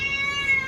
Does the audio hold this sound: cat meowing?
yes